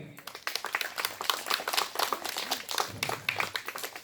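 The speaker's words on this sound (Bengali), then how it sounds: "আপনারা একটু করতালি দিন" An audience claps at a spiritual felicitation ceremony, a brisk burst of many hands clapping close and clear for several seconds, with little talk.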